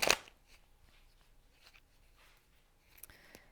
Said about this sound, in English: I've been shuffling these, so there are reversals in here now,